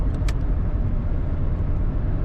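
A 1990 Chevrolet Caprice Classic Brougham sedan cruising along, heard from inside as a steady low road and engine rumble with a faint click near the start.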